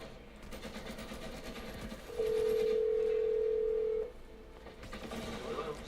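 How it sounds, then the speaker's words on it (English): A single steady telephone tone lasting about two seconds, loud against faint background noise, followed by a few quiet tones near the end. "I'm gonna dial this phone number right now."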